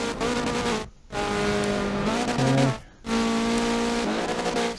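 A Spec Miata race car at full speed, a loud close engine drone with rising and falling gear tones, cut by two brief dips that sound like shifts or lifts, no talking.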